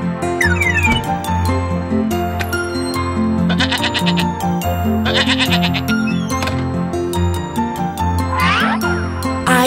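Goat bleats sound loud and close, several wavering calls repeating over layered music, with no talking.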